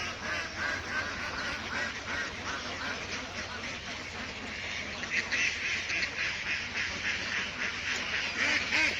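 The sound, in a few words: Khaki Campbell ducks quacking at a pond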